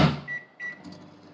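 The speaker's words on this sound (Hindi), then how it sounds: "So again मैं माइक्रोवेव करूंगी." A microwave oven heating butter runs briefly, giving a short electronic beep, a second beep, and a soft mechanical clunk, all heard alone and close.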